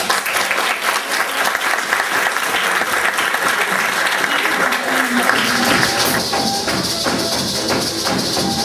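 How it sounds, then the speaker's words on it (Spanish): Audience at a university linguistics week event applauding a professor, continuous loud clapping from a full room that holds steady from start to finish. "vamos a hacer luego, de aplaudirla a Aida"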